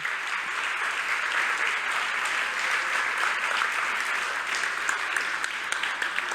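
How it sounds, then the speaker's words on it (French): Clapping fills a hall at a university thesis-presentation finale in Lorraine, a continuous, even round of audience applause held at steady volume with no one speaking. "On peut les applaudir, mesdames et messieurs."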